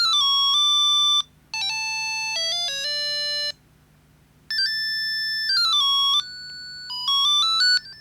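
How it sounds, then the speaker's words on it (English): A Siemens SL45 mobile phone plays its basic default ringtone, a shrill monophonic melody of clean beeping tones in several short phrases with brief gaps between them. It sounds alone with no talking. "The SL45 has by default very basic ringtones."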